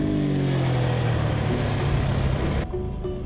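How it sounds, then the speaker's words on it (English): MotoGP racing motorcycle engine held at high RPM through a leaning corner, a loud continuous whine with rising harmonic tones, dropping slightly near the end as another pass continues. "So the more lean angle we add, the more the RPMs go up."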